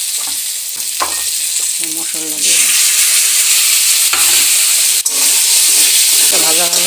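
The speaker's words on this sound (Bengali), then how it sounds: "ভাজা ভাজা হয়ে গেছে।" Green banana pieces with salt, turmeric, green chilli, ginger and ground cumin fry in a pan, hissing loudly and steadily up close as a spoon scrapes and stirs, while a voice speaks briefly near the start.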